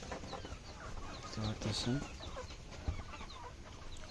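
Chickens cluck steadily inside a poultry farm shed, with a few louder hen calls rising near the middle and a soft thump near the end, while someone talks over the flock.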